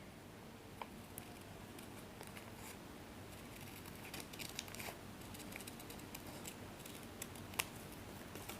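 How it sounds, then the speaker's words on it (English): Scissors snipping through paper to cut out a half circle for a children's crab craft, with faint, irregular small snips and rustles over a steady low room hiss; no voices. "So that half circle again I'll cut it."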